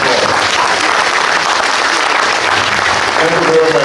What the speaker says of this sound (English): Ladies and gentlemen, please rise to your feet and give a round of applause.